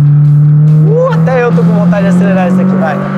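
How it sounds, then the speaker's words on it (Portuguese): A Peugeot track day car accelerates hard on a race track, its engine a loud steady drone with rising harmonics, while someone talks excitedly over it. "Acelera. Até eu tô com vontade de acelerar isso aqui, vai."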